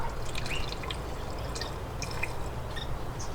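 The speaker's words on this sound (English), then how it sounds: "I can pour it all at one time and I'll be okay" Rain water is poured slowly from a jug into a blueberry container, a steady close trickle with small drips over a soft hiss.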